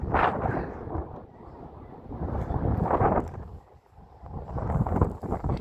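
Wind gusting across an open waterfront at Pier 39 in San Francisco, a steady low buffeting rumble against the microphone that eases briefly and then picks up again.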